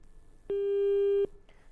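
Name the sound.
telephone busy tone after a caller's line drops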